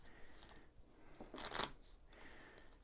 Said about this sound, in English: You're going to go ahead and shuffle them up.